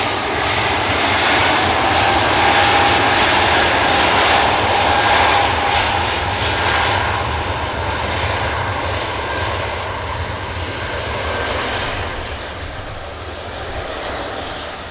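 An Air France airliner rotates and climbs away from the runway, its engines roaring loud and steady throughout with a broad rumble that eases slightly toward the end.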